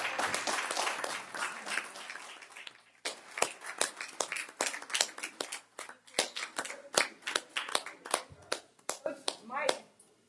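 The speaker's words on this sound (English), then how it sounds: "Let's all give them a round of applause." Applause at a school board of education meeting starts as a full burst from the audience, then thins into scattered individual claps spaced irregularly, fairly close.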